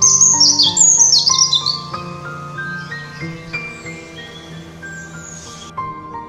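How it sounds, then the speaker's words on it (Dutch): A European robin sings in the early morning on the Noordginkel, a close, loud run of high, thin warbling phrases and trills with other birds faintly chirping behind. "Een roodborst zingt."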